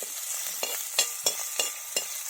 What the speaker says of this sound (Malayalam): നല്ലപോലെ ഇളക്കി ഇതിൻ്റെ പച്ചമണം ഒന്ന് പോകുന്നതിന് വരെ ഇളക്കുക.